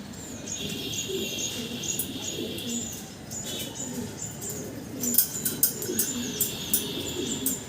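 Red Stretcher pigeons, a ready pair being packed for shipping, call with repeated soft coos and chirps over a steady background hum, with a few louder fluttering bursts toward the end.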